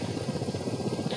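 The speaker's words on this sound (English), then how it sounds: "Georgian helicopters in sight." Georgian helicopters in a flight simulator game give a steady rotor drone, a rapid low chopping pulse that holds at an even level, close and continuous, with no talk.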